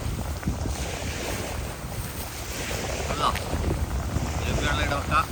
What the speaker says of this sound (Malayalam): ബീച്ചിന്റെ സൗണ്ട് ആയതുകൊണ്ട്, വെള്ളത്തിന്റെ സൗണ്ട് ആയതുകൊണ്ട്